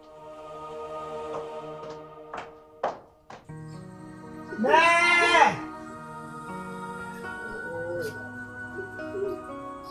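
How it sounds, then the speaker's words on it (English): A goat gives a single wavering bleat midway, after a few sharp knocks and taps, with faint voices and background murmur around it. "Did you see my goat?"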